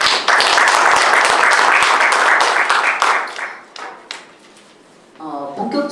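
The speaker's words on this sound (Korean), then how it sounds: "뜨거운 박수 부탁드립니다" A burst of audience applause at an academic forum, loud and dense at first, fading out after a few seconds before a voice begins speaking.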